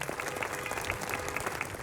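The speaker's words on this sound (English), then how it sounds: "So big round of applause for Wendy Wiseman for helping out." Audience applause at a municipal band season finale concert, a dense, steady wash of many hands clapping throughout, fairly distant and even in loudness.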